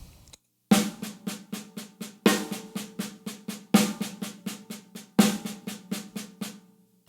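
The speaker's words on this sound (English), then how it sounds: "if you're not sure what the double paradiddle is" A drum plays a double paradiddle rudiment, a quick, steady sticking pattern grouped in four repeating phrases of accented strokes followed by rapid lighter hits, close and clear.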